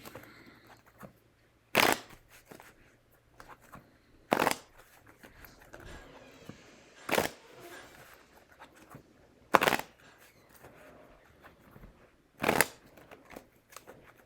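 Tarot cards riffle-shuffled five times at regular intervals, each a short crisp burst up close, with quiet handling sounds between.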